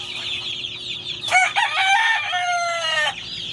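Tornado hatch gamefowl heard up close, a rooster crowing loudly over a background of clucking and soft fowl chatter.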